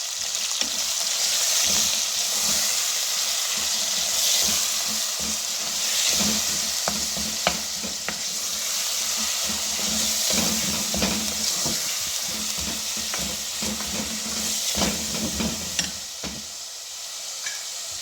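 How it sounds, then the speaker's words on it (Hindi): A quarter kilo of beef keema mince sizzles and crackles continuously in a pan for a qeema aloo dish, with occasional scraping and stirring knocks throughout. "अब हम इसमें 1 पाव ना बीफ का कीमा वो ऐड करेंगे और भूनेंगे"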